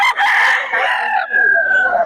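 A young gamefowl stag crows once, close and loud, with a strained, rising call that trails into a thin, drawn-out finish.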